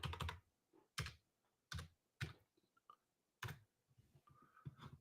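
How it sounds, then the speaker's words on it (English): Typing on a computer keyboard in uneven bursts of close clacking keystrokes with short pauses between, quiet and alone. "What did I type it in wrong?"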